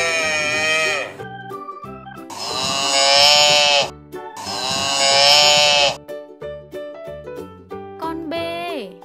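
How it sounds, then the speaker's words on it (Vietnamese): A calf bleats loudly three times in long, drawn-out calls, with a brief fourth call at the end, over light background music. "Đây là con bê."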